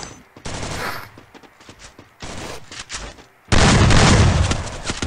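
Rapid bursts of gunfire in the Free Fire battle royale game, several clustered volleys of shots separated by short gaps, ending in a sustained loud barrage.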